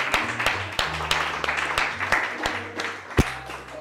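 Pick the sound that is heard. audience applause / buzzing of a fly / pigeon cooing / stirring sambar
audience applause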